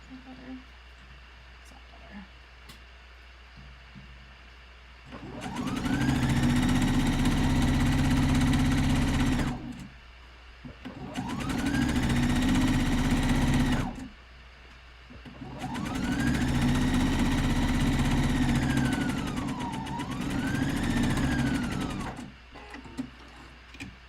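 A sewing machine stitches a pant leg of lounge pants in three steady runs, each several seconds long, with short pauses between them. The last and longest run briefly dips in pitch as it slows.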